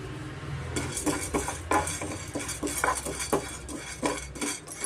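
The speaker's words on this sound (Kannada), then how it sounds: "ಮೊದಲಿಗೆ ಒಂದು ಪ್ಯಾನ್ ಇಟ್ಕೊಂಡು ನಾವು ಬೀಜಗಳೆಲ್ಲ ಹುರ್ಕೊಬೇಕಾಗುತ್ತೆ ಎಣ್ಣೆ ಹಾಕಲ್ಲ" A spoon or spatula stirs and scrapes sunflower, pumpkin and watermelon seeds roasting in a dry pan without oil. Repeated close metallic scraping and clinking sounds come in an uneven rhythm.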